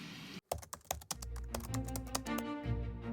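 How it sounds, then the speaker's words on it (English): Rapid run of soft, muffled clicks from an e-reader's page-turn buttons dampened with foam, close and fairly quiet, over a low steady hum with no talking. "that alone reduces the click sound quite a bit"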